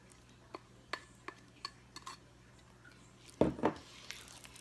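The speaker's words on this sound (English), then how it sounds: "you just want to stir it until it's combined" A spoon stirs cake batter with beaten eggs in a bowl for carrot cupcakes, giving soft, quiet scraping and a string of light clinks, then a louder clatter near the end.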